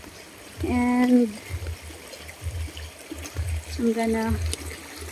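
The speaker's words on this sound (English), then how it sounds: "cross this creek here. There's a creek." A small countryside creek flows with a steady low rush of water, close by, while someone speaks over it in short bursts and footsteps shuffle near the bank.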